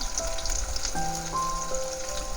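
Chopped onion and green chillies fry in a pan, a steady close sizzle with crackling and a few faint clinks, with no talking.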